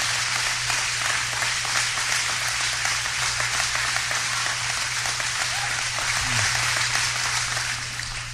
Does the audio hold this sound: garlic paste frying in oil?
no